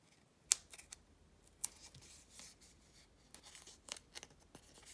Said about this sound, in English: just release the backings by pressing your fingernail into the middle of the dimensionals